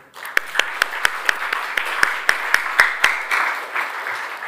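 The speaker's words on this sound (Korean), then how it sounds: "우리 경례하면서 박수 한번 할까요?" A church congregation claps in a slightly irregular rhythm, about a dozen sharp distinct claps standing out before the sound thickens into a fuller burst of applause that continues to the end.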